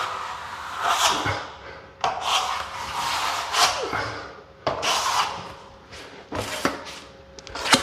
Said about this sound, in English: Getting a bit on my trowel,